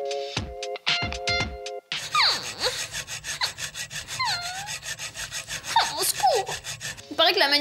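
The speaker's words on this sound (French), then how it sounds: "Alors je me lime les ongles depuis hier soir pour la faire correctement." Fingernails being filed with a nail file for an inverted French manicure, a continuous close rasping and rubbing with repeated back-and-forth strokes, preceded by a few brief sharp sounds at the start.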